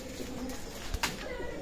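Pakistani Teddy pigeons coo softly in a loft, with low murmuring calls over a steady background hum and a brief flutter near the middle.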